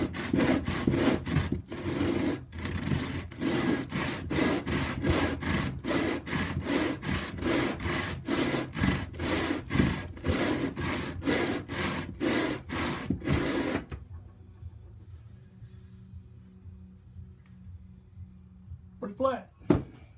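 A wooden bowl is rubbed back and forth on 60-grit sandpaper laid on a flat bench, a loud rhythmic rasping of quick strokes that stops abruptly, leaving near silence with a brief knock at the end.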